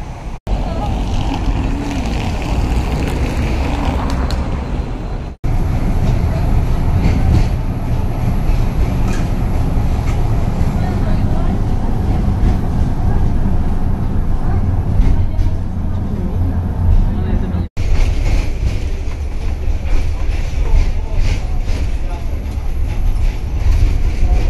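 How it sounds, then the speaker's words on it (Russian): Continuous rumbling rattle of a tram in motion in Lviv, loud and steady, with two sharp breaks in the noise partway through. "Так что это мы на последнем трамвае приехали?"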